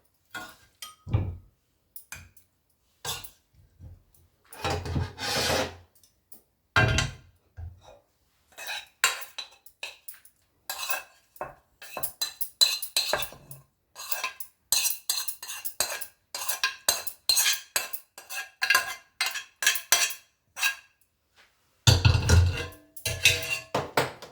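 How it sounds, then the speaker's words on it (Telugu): Ridge gourd pieces and green chillies pounded in a stone mortar for a rustic chutney, heard as repeated hard thuds and gritty clacks in irregular bursts, close and fairly loud, with no talking. "ఇప్పుడు వీటిని బాగా దంపుకోవాలి."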